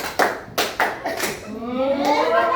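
A classroom of pupils claps in unison during a counting clap game in a microteaching lesson. Four sharp group claps land in a steady rhythm, then voices take over.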